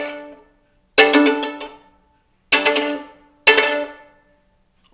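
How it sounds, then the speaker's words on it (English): Three sharp col legno jeté strokes, the bow's wood thrown onto two strings of a bowed string instrument, each a percussive, rattling bounce that decays quickly, close and alone. "Today I'd like to show you how this sounds with the wood of the bow"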